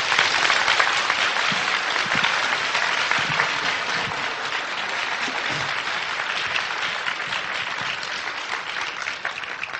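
A lecture audience gives sustained, dense applause welcoming Professor Ni Haixia onstage, a steady loud wash of many hands clapping that barely fades over ten seconds.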